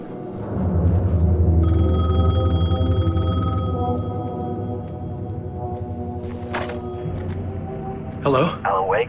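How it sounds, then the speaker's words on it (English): A payphone rings in the video game Alan Wake 2 with a steady electronic trill that lasts a couple of seconds. It sits over a loud, low, rumbling game ambience, and a voice is heard near the end. "The payphone was ringing."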